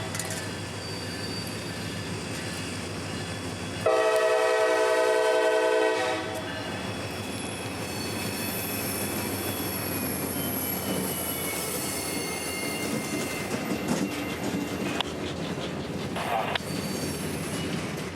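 CSX freight train 791 rolling on the Clearwater Subdivision near Tampa, with a steady loud rumble of cars and wheels, a sustained horn blast early on and high wheel squeal running over the continuous noise.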